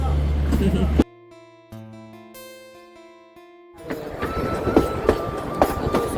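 An old passenger train running between Unai and Waghai rumbles and clatters on the rails, loud and steady, with a stretch of music cutting in midway before the rolling wheel noise returns.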